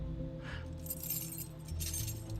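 Keys to a Stingray car jangle and clink in brief bright bursts, quiet and close, over a low steady hum.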